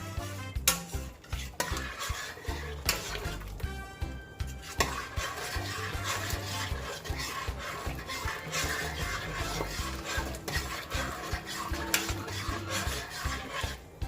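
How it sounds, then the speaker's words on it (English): A spoon stirs Jamaican rice and peas in a pot with seasoned salt and butter, giving a continuous scraping and rubbing against the pot with intermittent metallic clinks, close by and busy throughout. "It's gonna give it a stir."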